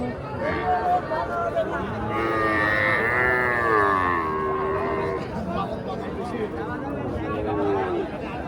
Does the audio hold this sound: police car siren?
no